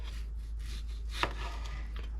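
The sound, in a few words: knife slicing a green tomato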